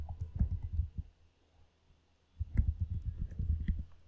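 A computer mouse clicking during a software install on a Windows 11 PC, two bursts of quick soft close clicks separated by a quiet pause.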